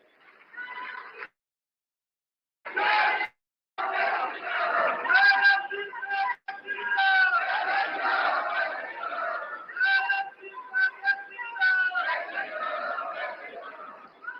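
A large rally crowd in Haryana cheers and shouts as the Chief Minister is called to the stage at a development projects event with PM Modi. The sound starts with short bursts, then settles into a dense, sustained roar with whistles and shouted calls.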